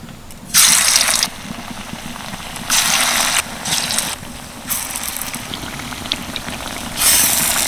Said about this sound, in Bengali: এবার আমি হাত দিয়ে সেপ দিয়ে দিয়ে ভেজে নেবো এক এক করে